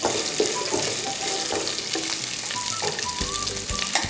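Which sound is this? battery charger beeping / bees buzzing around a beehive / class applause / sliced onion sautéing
sliced onion sautéing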